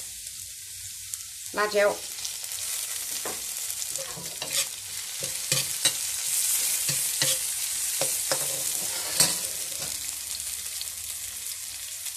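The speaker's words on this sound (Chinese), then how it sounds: "把这个大蒜炒香，炒出蒜香味。" Garlic and chili sizzle steadily in a hot wok while being stir-fried for a Hakka dish, with scraping spatula strokes and clinks over the continuous frying hiss, and a voice speaks briefly.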